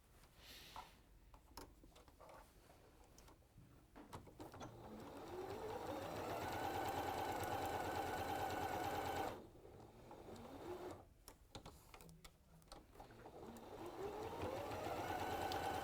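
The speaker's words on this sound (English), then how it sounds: "right sides together. And then sew around." A sewing machine stitches fabric in steady whirring runs, speeding up and holding for several seconds, pausing briefly, then starting again close by.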